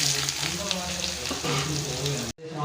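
Onions with cinnamon, cloves, cardamom and fennel frying in coconut oil for crab gravy make a loud, continuous crackling sizzle that cuts off abruptly near the end.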